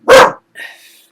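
A single loud, close dog bark rings out indoors, followed by a brief fainter yip or whine as it tails off.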